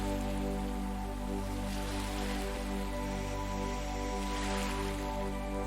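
Steady rain patters and hisses across surfaces, a continuous wash of sound over a low constant hum, with no voices.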